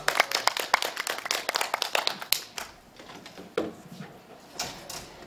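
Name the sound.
audience clapping to welcome a speaker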